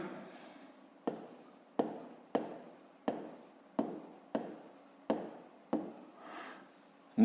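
A pen writes on paper in a math exercise, making about nine short scratchy strokes at a steady rhythm, each a crisp onset that fades quickly, close up and quiet.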